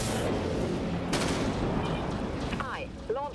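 A warship in the Dreadnought game fires torpedoes amid dense, continuous booming and rumbling gunfire, with a sharp burst partway through and a voice speaking faintly over the din.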